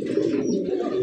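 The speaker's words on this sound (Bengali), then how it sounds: "লাল টুকটুকে এক জোড়া বোম্বাই কবুতর" A red Bombay pigeon at a farm gives one low, throaty coo, close and steady for about a second, with no talk.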